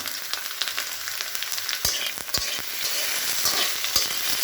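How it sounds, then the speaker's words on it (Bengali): Mixed vegetables with potato frying in a covered pan, a steady close sizzle with scattered sharp pops and clicks and no talking. "দুই মিনিট ঢাকা দিয়ে ভেজে নেব"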